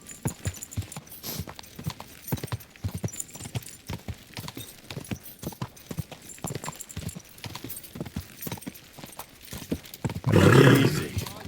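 A horse in Kingdom Come: Deliverance 2, with hooves clip-clopping in a steady stream throughout and a loud whinny near the end, heard alone without talk.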